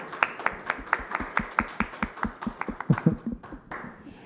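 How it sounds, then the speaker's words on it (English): Audience clapping for conference panelists at a blockchain and identity session, heard as a sparse run of distinct, fairly close hand claps in a loose rhythm rather than a dense ovation, with no talking over it. "I'd like you guys to give a round of applause for"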